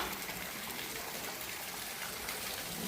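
Rainwater falls from above at Sri Rama Mandira temple in Donderangadi, making a dense, continuous rushing splash that stays loud and even throughout.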